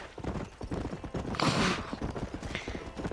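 Horse hooves clip-clopping in Red Dead Redemption, a soft, steady rhythmic patter of hoofbeats at moderate distance, with a brief louder rustle midway and faint voices underneath.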